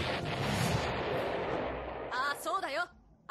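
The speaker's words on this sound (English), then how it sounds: "Also, stock explosion sound." A stock cartoon explosion sound effect: a loud explosion rumbles and fades out, followed by a short burst of warbling, wavering tones.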